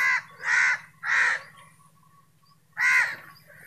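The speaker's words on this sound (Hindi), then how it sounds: "पंछी उड़ रहे हैं आसमान की तरफ" Crows flying up over a wheat field give four loud, harsh caws in an uneven rhythm, close by, with a low rumble beneath and a pause before the last call.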